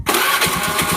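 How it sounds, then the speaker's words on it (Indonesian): A carbureted Honda Beat motorbike engine cranks and catches with a quick starter whir, then settles into a steady, rapid mid-pitched idle, close and alone. "motor kita starter"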